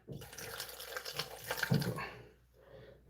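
Coconut water strained into a container in a kitchen gives a steady trickling, splashing pour for a few seconds, close and moderately loud, tapering off near the end.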